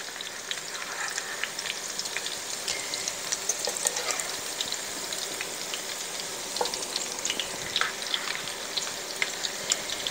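Southern-style cabbage croquettes, or cabbage patties, fry in a pan with a steady bright sizzle and crackle of hot oil that holds close and constant, with scattered small pops and no voices.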